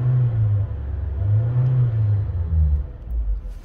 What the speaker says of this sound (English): I'll just give it a little bit of a rev for you too.